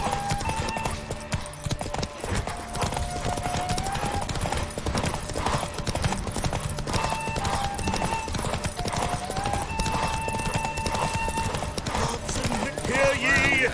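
Hooves of the horse Roach pound in a rapid, steady gallop during a derby race in The Witcher 3, loud and continuous beneath game music and occasional voices.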